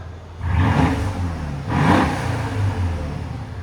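A 2013 Mercedes S550 with a 5.5L V8 and muffler delete blips its throttle twice, two loud rising revs over a deep idle rumble.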